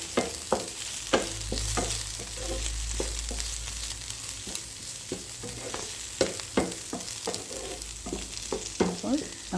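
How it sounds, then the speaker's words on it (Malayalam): Okra for vendakka mezhukkupuratti sizzles steadily in a pan while pepper powder is stirred through it, with repeated close scraping and clatter of the spoon over a continuous frying hiss; no one speaks. "എരിവ് ബാലൻസ് ചെയ്ത് നിൽക്കാൻ വേണ്ടി കുറച്ച് കുരുമുളക് പൊടി കൂടെ ചേർത്ത് ഇളക്കി കൊടുക്കുന്നുണ്ട്."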